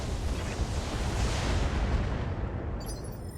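A mech in the BattleTech video game unloads all its weapons at once, a dense, loud sustained roar of blasts and impacts that fills several seconds before tapering off.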